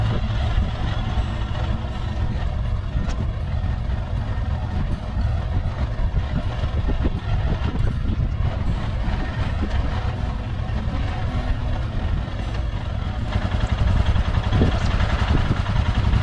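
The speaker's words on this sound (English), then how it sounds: "it's running, bike's running, it's in neutral" An adventure motorcycle's engine idles in neutral on uneven ground, a steady, close, continuous rumble that holds evenly from start to finish with no revving.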